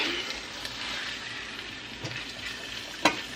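Ground beef (carne molida) fries in a pan on a hotel-room stove with a steady, soft sizzle and occasional stirring scrapes, plus one sharp clink near the end.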